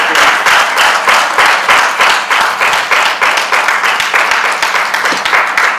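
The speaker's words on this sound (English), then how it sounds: "they actually deserve a very, very big round of applause" An audience applauds steadily, with dense rhythmic clapping from a large crowd that stays loud and even for several seconds.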